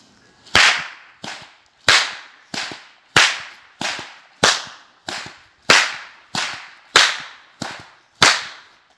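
A whip made of chain with a two- or three-strand braided tip cracks twelve times in a slow, even rhythm, each sharp, loud snap ringing out alone against silence.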